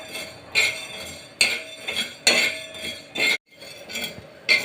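Coriander seeds dry-roasted in a pan for a chicken biryani and curry, heard as a few separate bursts of metallic clinks and scraping from a spoon against the pan, close and fairly crisp, with short quiet gaps.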